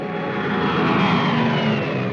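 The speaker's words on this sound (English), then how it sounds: "Weather planes such as this Mosquito" A de Havilland Mosquito weather plane in flight gives off a steady, loud engine drone that holds evenly throughout, with no voices over it.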